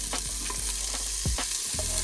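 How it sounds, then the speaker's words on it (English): Onions sauté in hot oil in a pan as the start of a bok choy dish, giving a steady close sizzle with a few soft stirring scrapes and taps throughout. "So first I'm gonna heat a little bit of oil so I can saute. I'm gonna put onions first"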